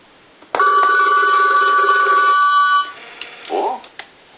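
A shrill bell on an animated Goofy novelty telephone rings steadily for about two seconds, stops, and is followed by a brief higher warbling chirp.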